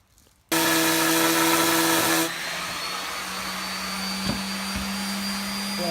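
Powered sander with coarse-grit paper working a wooden barn door, starting abruptly as a loud, steady whirring drone that drops to a softer, even hum partway through, with a couple of faint knocks and no talk.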